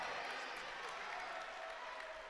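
Crowd applauding at a women's college basketball playoff game, Greenville at Principia, in appreciation of a player's hustle on the floor; steady, broad clapping and crowd noise fills the whole moment at a moderate, even level.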